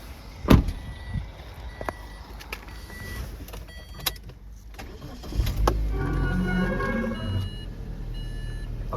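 A 2012 Geely Emgrand 7 (EC7) sedan with 55,000 km on it starts up: a few clicks and thumps, a short cranking whir, then the engine catches and settles into a low steady idle, nearby in the cabin.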